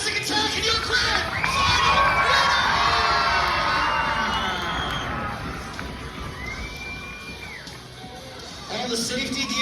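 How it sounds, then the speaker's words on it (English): Crowd at a monster truck show at the Carbon County Fairgrounds cheering and shouting loudly for the Jurassic Attack truck, with children yelling and whoops rising and fading across the whole stretch, some voices audible within the noise. "Make some noise for Jurassic Attack and your crowd!"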